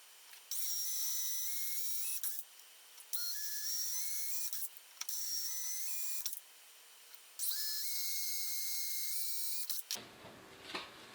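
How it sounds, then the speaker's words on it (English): A drill bores 1/4-inch holes in a router table top, sounding as repeated high-pitched whining runs with rising motor pitch, separated by short pauses, close and loud, then a quieter rustle at the end. "I marked the mounting holes and drilled 1/4-inch holes for the mounting bolts"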